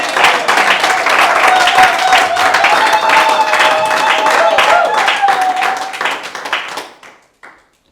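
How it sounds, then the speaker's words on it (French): A church congregation applauds and cheers loudly for several seconds, a dense wash of clapping with raised voices, then it dies away abruptly with a last few claps. "Est-ce que ceux qui ont assisté à cette retraite peuvent acclamer très fort le Seigneur?"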